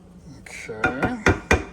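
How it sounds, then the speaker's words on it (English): A spoon stirs a Cajun green rice mixture seasoned with black pepper, giving a few close, scraping knocks against the pot at an uneven pace, with a brief murmur of voice beforehand. "We stir this together."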